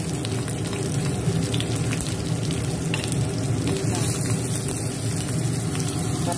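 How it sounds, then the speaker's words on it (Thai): Eggplant frying in a moderate amount of oil makes a steady, close sizzle with continuous bubbling crackle that never lets up, and faint background noise sits under it. "แม่ย่าเอาทั้งหมดมาทอดนะคะก็ได้ประมาณนี้นะคะ น้ำมันเราก็ใส่ปานกลางนะคะ"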